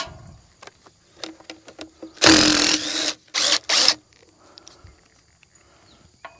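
A small DeWalt power tool, probably an impact driver, runs in three loud bursts while removing a short bolt on a 2000 Freightliner Classic truck: one long roaring burst, then two shorter ones, with quieter clicks and clatter before and after.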